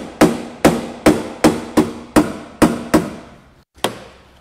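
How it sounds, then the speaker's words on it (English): Hammer taps sheet metal down with nine sharp metallic strikes in a steady rhythm and a short pause before the last, close and loud, each blow ringing briefly. "just that little bit of tapping"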